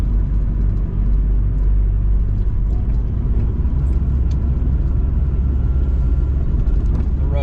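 A car driving along a road, with a steady low rumble of engine and tire noise throughout and occasional light passing sounds; a person talks over it.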